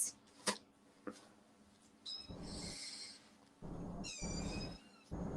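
A kitten drinking milk in a bathtub gives two high, drawn-out meows, each lasting about a second, close and fairly faint, with a few soft clicks and taps before them.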